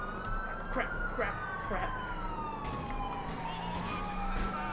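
Ambulance siren in GTA IV with the LCPDFR police mod, wailing steadily up and down across the whole stretch, mixed with other game noise and a brief spoken exclamation.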